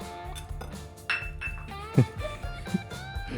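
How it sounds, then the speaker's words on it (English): A Thermomix butterfly whisk attachment coming off, giving a few bright metallic clinks and rattles up close, with a resonant ring and softer knocks following. "We're going to remove our butterfly whisk."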